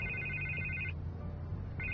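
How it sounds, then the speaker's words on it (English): Phone ringing in the Batman Telltale video game: a bright electronic ring tone sounds, cuts off briefly, then starts again near the end, close and clear with no talk. "I can't get the phone to stop ringing"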